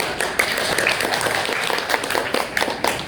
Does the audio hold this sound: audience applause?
yes